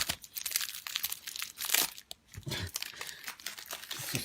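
Plastic wrapping around a Yu-Gi-Oh Code Breaker starter deck crinkles and tears as it is opened, a close, busy stretch of rustling and crackling with one brief pause partway through.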